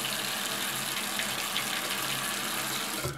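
Water pours steadily from a tap, a close, even rushing stream that stops abruptly at the end.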